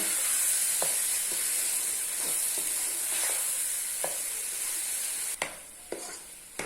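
Pumpkin halwa stirred in a pan, a steady hissing sizzle with soft, intermittent scrapes of a spoon and a few sharper knocks near the end.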